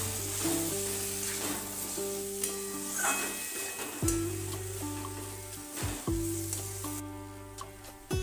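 Chopped elephant foot yam tipped into hot oil for a fish curry, giving a steady close sizzle with stirring scrapes and clinks throughout, no voices.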